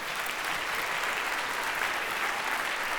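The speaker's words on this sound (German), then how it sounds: "Applaus bitteschön." Concert audience applauding steadily throughout a live family concert, a dense, even wash of clapping hands with no pauses and no talk over it.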